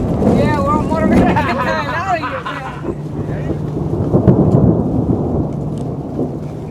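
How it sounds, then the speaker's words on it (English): Thunder and steady rain in the High Sierra mountains: low, deep rumbles roll beneath a constant rain hiss, with people talking over the storm at first before the downpour and thunder carry on alone. "A steady rain and almost constant thunder hounds them all day."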